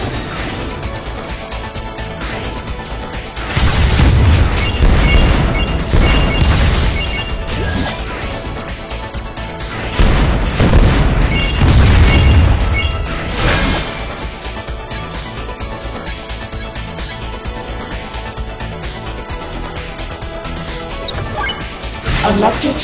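Electric shock rocket explosions in the video game Win Wing burst as loud crashing blasts in two heavy waves over steady game music and effects.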